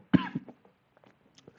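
A single sharp cough near the microphone, followed by a couple of softer throat sounds and faint rustling.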